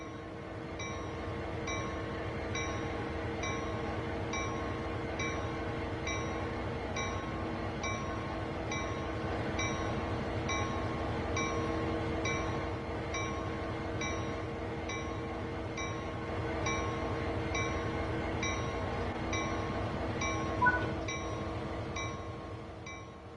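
Locomotive in the Train Sim World 4 game running along the tracks, a continuous low diesel drone with a steady repeating wheel clatter over rail joints, even and sustained.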